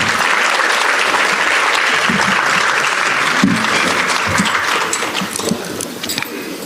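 Sustained, dense applause from an audience at a public forum on reducing gun violence in Florida, steady and loud throughout, then easing slightly toward the end.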